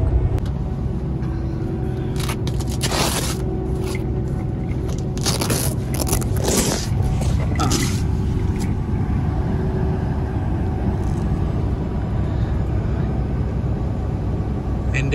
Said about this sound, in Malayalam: എൻ്റെ ട്രെയിനറും സുഹൃത്തുമായ ലിമേഷ് ഇതാ വണ്ടി ഓടിക്കുന്നു